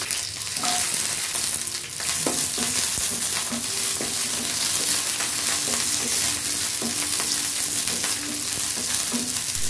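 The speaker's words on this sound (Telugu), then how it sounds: "మిర్చిని మధ్యలోకి కట్ చేసేసి ఇలా ఆయిల్లో వేసేసుకొని ఫ్రై చేసుకోవాలండి" Slit green chillies frying in hot oil in a pan for a cucumber bajji chutney, a loud continuous close sizzle with occasional stirring clinks.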